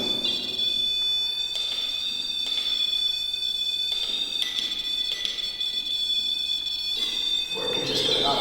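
A handheld ghost-hunting device at Fort Mifflin beeps and whines when its metal rod is touched, a high electronic tone pulsing in repeated bursts about every second.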